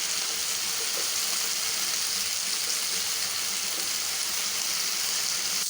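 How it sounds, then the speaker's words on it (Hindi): Sliced okra (bhindi) frying in a home pan for a bhindi keema dish, giving a steady, close, even sizzle that continues throughout with no voices. "यहाँ हमारी भिंडी फ्राई हो रही है"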